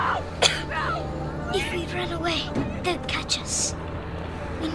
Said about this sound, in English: They'll hear you coughing.